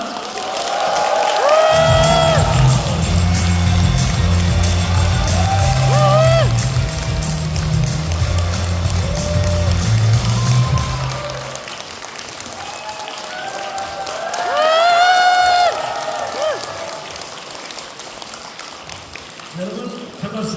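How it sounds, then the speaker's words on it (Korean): Audience in a large event hall applauding and cheering as a company executive takes the stage, with a booming amplified announcer's voice and music over the crowd noise. "여기 계신 모든 분들께서 한 큰 박수로, 정말 큰 박수로 맞이 부탁드리겠습니다"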